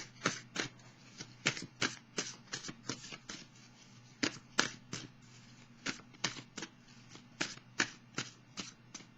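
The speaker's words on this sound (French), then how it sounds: "Je vais piger une carte maintenant" Tarot cards are shuffled and drawn, giving a series of crisp, close riffling and slapping bursts in an irregular rhythm, quiet overall with no talking.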